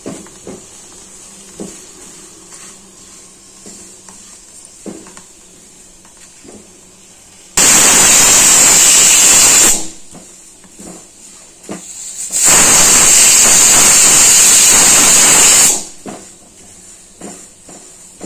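Sesame seeds roasting on medium heat in a pan for chutney, crackling and hissing in two loud bursts of dense sizzle, between quieter stretches of faint scraping and tapping.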